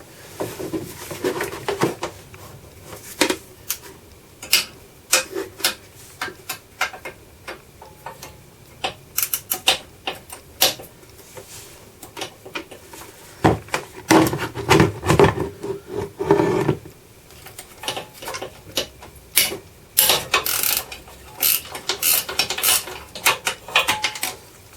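Ratchet undoing the exhaust header bolts on a Hayabusa motorcycle, bursts of rapid metallic clicking and clattering in uneven runs with short pauses, close up, with only brief quiet speech.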